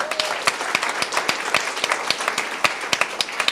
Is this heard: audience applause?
yes